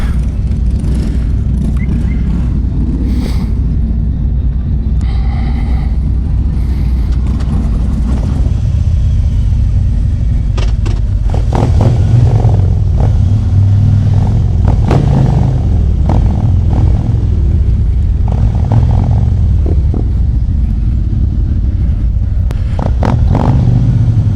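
A Stage 2 Harley-Davidson engine, either a Road Glide 114 or a CVO Street Glide 117, rumbles loudly and continuously nearby, with its low throb swelling at times as it revs and pulls away.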